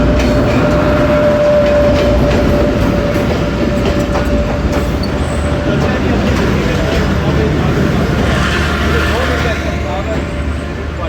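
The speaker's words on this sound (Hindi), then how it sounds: "दोबारा से ट्रेन हमारी मूव होना शुरू होगी सेकंड डिपार्चर विसल के साथ" A passenger train on the Peshawar to Karachi railway line rolls along with a loud, steady, close rumble and faint rhythmic wheel clatter on the rails, and a thin whistle-like tone runs through the first half.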